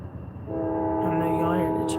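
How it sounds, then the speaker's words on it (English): A train sounds a long, steady multi-tone horn that starts abruptly and holds loud through the second half, with a voice talking underneath. "I know y'all hear the trains and shit."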